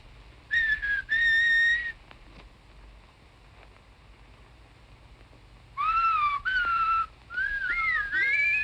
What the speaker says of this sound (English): So I whistled back, like this.